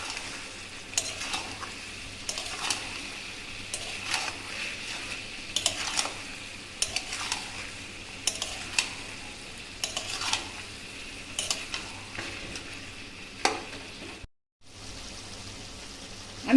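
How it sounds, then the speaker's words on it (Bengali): Jackfruit curry, sweetened with a little sugar, stir-fried in a pan: a steady sizzle runs throughout while a spoon scrapes and clinks against the metal in irregular strokes, with a brief pause near the end. "এবার আমি এটা কষাবো।"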